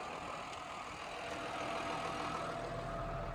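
A tractor engine runs steadily in third gear at raised revs while disking a field, a continuous mid-to-low drone heard close up without talk.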